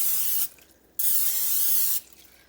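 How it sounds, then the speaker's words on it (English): Cooking oil sprays from a can onto a surface in two hissing bursts, close and loud, separated by a short pause, with no talking. "I'm gonna spray this with oil"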